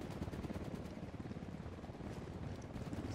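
A helicopter in the video game Ghost Recon Wildlands, a dense, continuous rotor chop and engine rumble with rapid pulsing, fairly loud and steady throughout, no talking.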